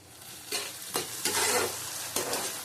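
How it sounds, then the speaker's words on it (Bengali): Curry sautéed and stirred in a hot pan, a continuous sizzle broken by four or five louder scraping spatula strokes, close up and with no talk. "আবার একটু কষিয়ে নেবো ভালো করে"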